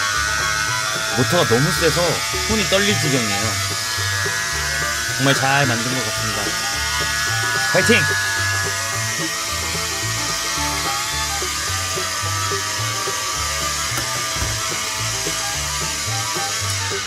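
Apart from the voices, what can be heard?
homemade DC motor mini fan running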